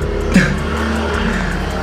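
Remote-control toy car accelerating: a steady high motor whine runs throughout, loud and close, with a brief sharper burst early on and no talk.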